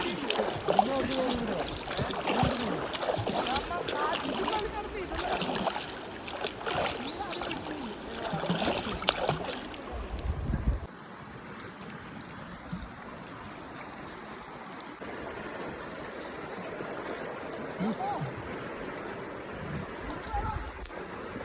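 River water rushes and splashes continuously around tube rafters on the Chandragiri river in Kerala, a steady wash that is louder at first and then settles into a quieter, even flow, with people talking at times.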